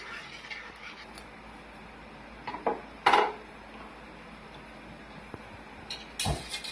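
Sugar being stirred in a pan for halwa, mostly quiet with a few sharp metallic clinks and scrapes of the spoon against the pan, spaced irregularly.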